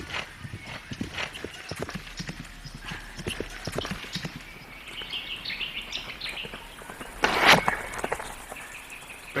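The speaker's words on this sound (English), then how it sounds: "When a horse is galloping," Horse hooves clip-clop in a quick, continuous galloping rhythm at moderate distance, with birds chirping faintly in the background and a brief sharp rustle near the end.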